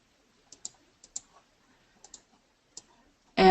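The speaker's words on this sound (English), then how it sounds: "double click" A computer mouse gives a few light, close clicks, some in quick pairs, over near silence, before a burst of louder sound at the very end.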